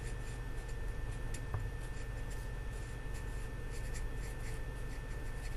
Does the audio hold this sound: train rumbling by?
no